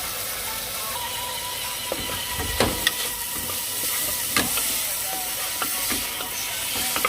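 Cabbage-roll filling with paprika browns and simmers gently in a pot, a steady soft sizzle and hiss with scattered stirring scrapes and clicks, close and continuous without speech.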